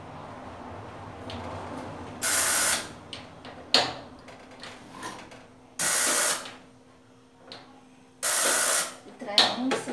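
Gas stove burner being lit on a home kitchen range gives three loud, steady hissing bursts of a couple of seconds each, spaced apart, with softer clicks and kitchen clatter between them.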